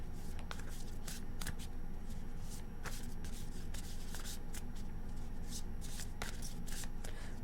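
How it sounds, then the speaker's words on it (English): Tarot cards being shuffled by hand, a continuous close, crisp riffling and flicking of card stock with quick repeated snaps, heard alone without talk. "Last shuffle."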